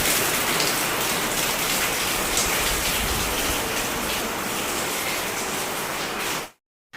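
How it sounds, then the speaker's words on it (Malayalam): Heavy rain pours down steadily and loudly, a dense, unbroken wash of sound that cuts off abruptly near the end. "മഴ"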